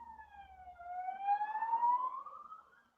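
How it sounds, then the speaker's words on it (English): An ambulance siren wails outside, a steady rising and falling tone that swells as it passes and then fades away, with no talk over it. "Hello, ambulance."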